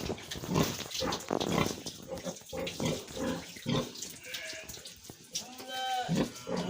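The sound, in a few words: pig grunting on a pig farm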